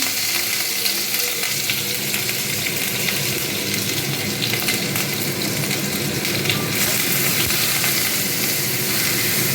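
Onion paste frying in a pan for butter chicken, a loud continuous sizzle with bursts of stirring and scraping, close and steady throughout.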